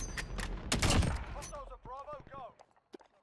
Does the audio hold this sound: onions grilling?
no